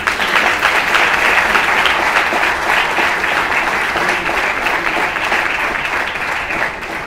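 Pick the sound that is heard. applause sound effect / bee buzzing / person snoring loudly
applause sound effect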